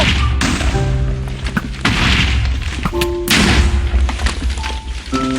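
Explosions in the video game Minecraft, heavy booming thuds recurring several times against a dense, loud game soundscape with no talk over them.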